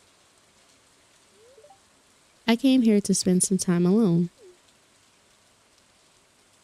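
Steady soft rain falls in a modded Stardew-style farming game, a faint even hiss across the whole stretch while one voice speaks over it for a couple of seconds.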